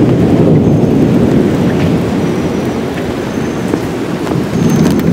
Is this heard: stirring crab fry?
no